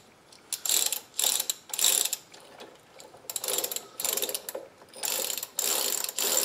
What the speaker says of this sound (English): The lower part ratchets if you spin it, and the top part ratchets if you spin it.